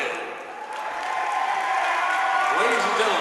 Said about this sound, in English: Ladies and gentlemen, a great round of applause for our sportsmanship